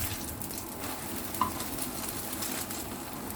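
Peanut butter French toast sizzles steadily in a frying pan, a continuous close crackle and hiss with a brief soft knock as the bread is flipped.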